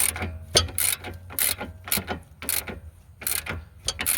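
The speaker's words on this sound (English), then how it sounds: "gonna slow roll it with the hand ratchet instead of the automatic" A hand ratchet turned on a front strut bolt of a 2009–14 Nissan Maxima 3.5L V6, giving close bursts of clicking in uneven strokes with short pauses between them.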